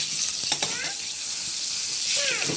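Mango pieces fry in a little oil with mustard seeds and chillies for a mango chutney, making a steady bright sizzle with a couple of soft knocks from stirring, some faint voice in the background.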